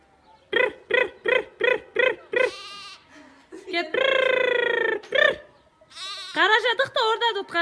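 Sheep and lambs bleat outdoors on a farm, a rapid run of short repeated bleats followed by a long drawn-out bleat and more calls, loud and close with no talk.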